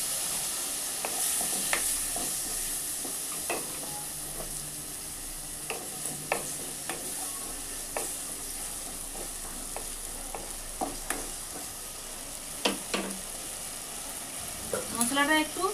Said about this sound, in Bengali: এবার মশলাটায় আমি সামান্য পরিমাণ জল দেব।